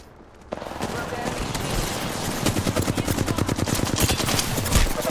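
Automatic weapon fire in the video game Apex Legends, a rapid, loud, close burst that begins after a sharp crack and speeds into a dense stream of shots through the end, with a voice mixed in.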